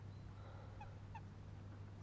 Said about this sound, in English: Those ducks are going to be really annoying today